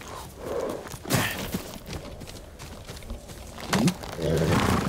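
A horse galloping in the video game Ghost of Tsushima, with quiet, irregular clip-clop hoof beats and a couple of louder thumps against a busy game soundscape.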